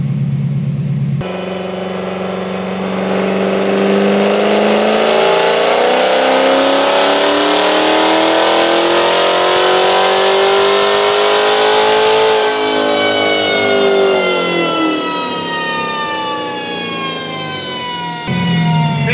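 A supercharged Corvette C7 Z06 with a Kong X-Port blower screams on a dyno, one long loud pull climbing steadily in pitch before dropping off, the engine heard alone.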